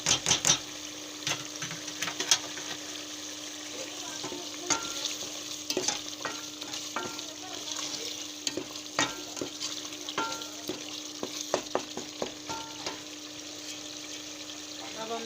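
Spice masala of red chili, turmeric and salt frying in a pan for chana dal, with frequent quick scraping and clinking stirs over a low, steady sizzle, fairly close.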